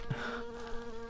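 A giant mosquito in the Ao Oni mansion video game gives off a faint, brief insect buzz, a droning whine with a steady pitch.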